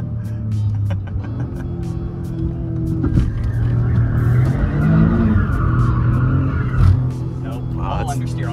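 Tires on a GR Corolla slide and squeal under a revving engine, the car's drone steady and close, with people talking over it.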